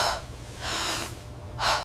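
A person waking from sleep gasps for breath in three sharp, breathy inhalations, close and fairly loud, with quiet pauses between them.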